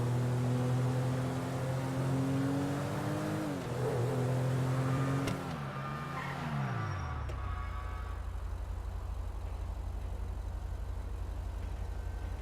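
A Sentinel car in Grand Theft Auto drives toward the freeway into Los Santos, its engine revving and shifting pitch, then settles into a steady low road rumble after a sharp click.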